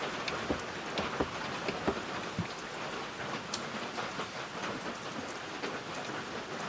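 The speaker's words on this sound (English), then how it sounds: "it's raining again" Steady rain falls outside, a dense, even hiss with scattered close drips tapping on surfaces, continuous throughout with no talk.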